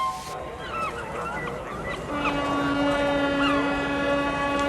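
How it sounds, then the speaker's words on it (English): A ship's horn sounds at a harbour by a big seaside station in a Thomas & Friends episode, a long, steady low blast over soft honking and ambient harbour noise. "The ship horn is heard a little earlier in Carlin's dub"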